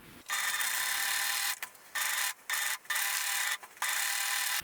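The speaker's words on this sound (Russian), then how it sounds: "швы обработаю на оверлоке" Overlock serger stitching and trimming fabric seam edges on a knit-and-fabric top, a fast buzzing whir running in several short bursts separated by brief pauses, close and fairly quiet.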